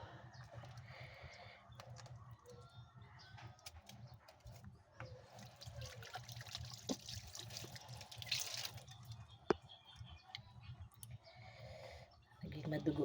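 Tap water running while a boneless milkfish is washed in a sink, giving a faint, steady trickle with a few drips, with quiet talk in the background.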